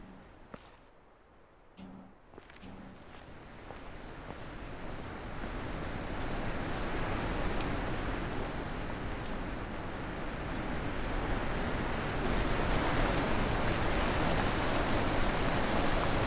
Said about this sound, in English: Tumbly water.